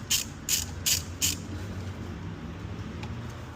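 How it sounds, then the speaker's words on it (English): A ratchet loosens a bolt on top of the engine head of a Honda FL5 Civic Type R during a blow-off valve install, giving four loud, evenly spaced clicking strokes up close. A low steady hum fills the background afterward. "loosen up this bolt here on the top of the head"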